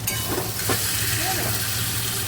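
Spice paste with garlic paste frying in a pan: a continuous close sizzling hiss with some stirring, steady in loudness, with a faint voice briefly audible beneath it.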